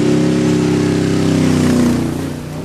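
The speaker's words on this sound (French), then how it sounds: "cette réplique AC Cobra, c'est une restauration complète, moteur V8 289, 400 chevaux, carburateur Edelman" A restored AC Cobra replica with a 289 V8, 400 horsepower and a four-barrel carburettor revs hard at a historic hill-climb, a loud, close, rising engine roar that holds, then eases off toward the end, with no voices.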